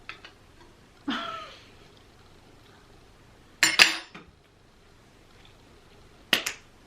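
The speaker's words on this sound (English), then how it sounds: "I forgot a knife, so I'm just eating everything with a spoon" Metal spoon clinking against a plate while eating eggs, a few sharp separate clinks and scrapes spaced seconds apart, close and fairly quiet in an otherwise still room.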